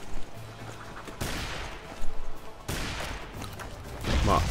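Gunfire in a shooter video game comes in a few loud bursts separated by short pauses, mixed with crashing impacts and other game noise, with no talk.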